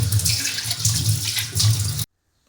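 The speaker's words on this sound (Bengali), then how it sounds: "এখন সিংটাও সুন্দর করে ধুয়ে নিচ্ছি" Tap water runs steadily into a kitchen sink as it is washed and rinsed clean after scrubbing dishes, a continuous close splashing that stops abruptly near the end.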